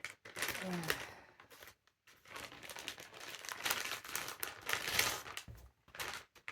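A plastic zip bag crinkles and rustles loudly at close range while an inflatable camping mat is unpacked, with steady handling noise and brief pauses.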